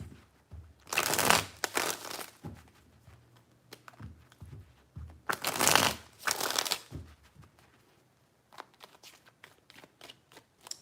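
Tarot cards being shuffled in three distinct bursts of brisk riffling and flapping, each a couple of seconds long, close and fairly loud, with lighter taps and card handling between them and no talk.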